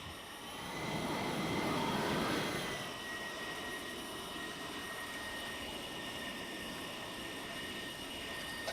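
Jet aircraft in an RC flight simulator coming in to land on a runway, a steady broadband engine roar that swells briefly then settles into a constant whine with a high tonal hiss, no talking.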